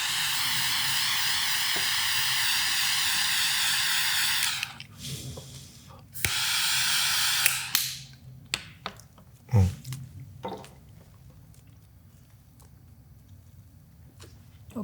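A lighter flame lights a cigar with a steady, close hiss that runs in two sustained bursts, followed by quieter rustling and small clicks.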